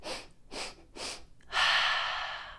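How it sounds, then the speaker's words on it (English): Sniffing like bunnies during a children's yoga class, three quick close nasal sniffs followed by a longer breathy exhale, no talking. "we're gonna wiggle our noses and sniff 3 times."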